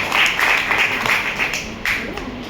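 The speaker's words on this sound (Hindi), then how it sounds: "एक बार जोरदार तालियां हो जाए।" An audience claps loudly and steadily after a recited Hindi shayari at a motivational talk, a dense continuous patter of many hands with a few brighter bursts, close and filling the room.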